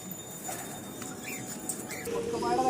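Pigeons coo at close range in a loft. Soft, repeated coos run under a voice, and a louder harmonic call rises near the end.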